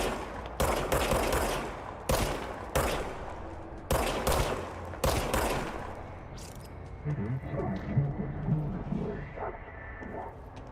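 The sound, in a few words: gun firing in video game Control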